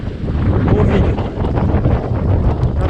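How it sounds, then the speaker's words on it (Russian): Strong wind buffets the microphone at a fishing pontoon by the water, a loud continuous low rumble that surges and dips throughout with no voices. "Блин, ветер дует, даже не знаю, как ее защитить."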